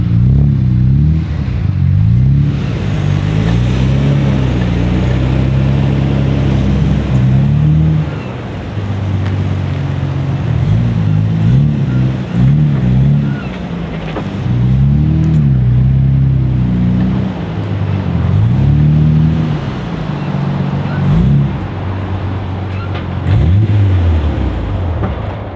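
A Nissan R34 GTR claws up a very steep parking entrance in Japan, its engine loud and close, droning and rising in pitch as it revs in repeated surges over nearly half a minute, without talk.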